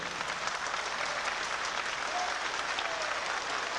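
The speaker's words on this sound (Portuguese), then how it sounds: "Eu acho que a Guarda Popular merece muito aplauso nosso mesmo." A union assembly voting to end a strike applauds the Guarda Popular: a dense, even wash of many hands clapping, steady and unbroken throughout, with no voice on top.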